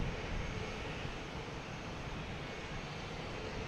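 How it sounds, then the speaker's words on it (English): A JetBlue airliner arriving from Houston at Boston Logan Airport roars with a loud, broad, steady jet-engine rush that fills the whole clip, with no talking. "We got JetBlue here coming in from Houston."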